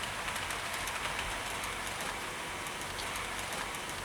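Heljan Class 26 model locomotive running along a model railway track, giving a steady, even hiss-like rumble with faint repeated clicks throughout, quiet and continuous with no voices.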